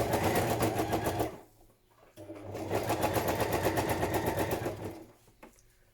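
Sewing machine stitching a padded patchwork journal cover, running in two steady rapid bursts of needle clatter with a brief pause between them, then stopping near the end.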